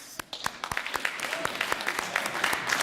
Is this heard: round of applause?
yes